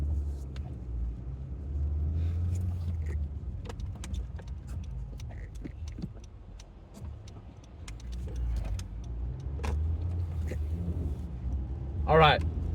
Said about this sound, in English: So much fucking traffic, bro.